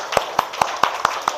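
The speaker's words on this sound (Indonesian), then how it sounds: "tepuk tangan dulu untuk kita semua." A classroom of students claps together in short bursts, six sharp, evenly spaced claps in a steady rhythm, close and fairly loud over a faint background.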